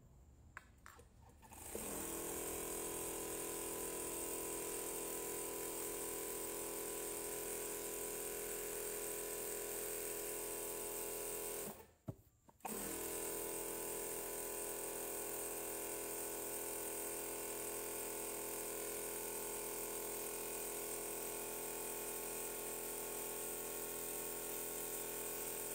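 A domestic sewing machine winds thread onto a bobbin with a steady, high-pitched motor whir that runs on and on, briefly stopping partway through before starting again; quiet and alone, with no speech.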